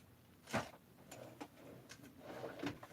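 A drawer in a workshop slides open and its contents are rummaged through: a quiet scrape followed by faint knocks and clinks of tools shifting, soft and close.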